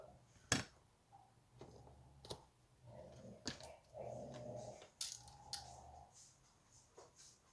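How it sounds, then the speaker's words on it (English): Dogs at play give low grunts and soft growls in the background of a quiet room, heard in short bursts among scattered sharp clicks and taps. "So all those grunts and moans you hear in the background are my dogs."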